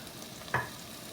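Soft, steady sizzling of New York strip steak and sliced potatoes frying in oil in a pan, with a brief clink or stir partway through; no voices.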